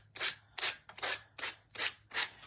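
A 60-grit sanding block rubs along the edge of thick paper for a mushroom shelf sitter craft, making six rhythmic rasping strokes, close and quiet, with no talking.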